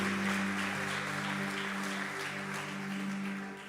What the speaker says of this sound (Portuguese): Dá um aplauso vibrante para Ele, não para mim, mas para Ele nessa noite.